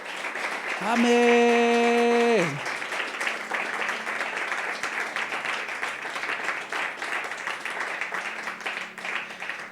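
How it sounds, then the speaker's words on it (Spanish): A church congregation breaks into loud, sustained applause during a Spanish-language sermon, with a voice calling out over a musical chord at the start before the clapping settles into a steady wash. "Puedes darle un fuerte aplauso a Jesús."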